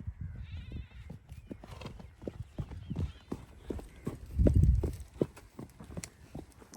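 A mare walks at an easy pace on firm ground, her hooves clip-clopping in a steady, close rhythm of sharp knocks, with a brief louder shuffle near the middle and a faint voice in the background.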